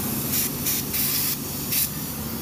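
Aerosol spray can hissing in four short bursts, aimed at a stuck ring on a motorcycle engine part, close and loud over a steady low background hum.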